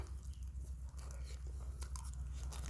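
Close, quiet chewing of rice during a meal, soft wet bites and crunches repeating over a steady low hum, with no talking.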